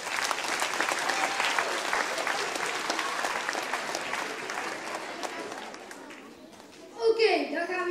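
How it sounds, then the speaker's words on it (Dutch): A crowd at a BRAK carnival session applauds the sponsors with sustained, dense clapping that fades slightly before a voice speaks over it near the end. "Geef ze een hartelijk applaus."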